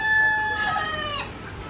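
A rooster crows once, loud and close, its harmonic call sliding down and breaking off after about a second.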